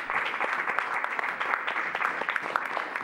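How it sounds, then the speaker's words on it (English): Council chamber audience clapping steadily for about three seconds, a dense even patter of many hands at moderate level with no talk over it. "Clapping's good."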